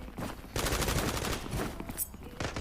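Gunfire in the mobile shooter Zula Mobile, several quick rattling bursts with short gaps between them, moderately loud and a little distant.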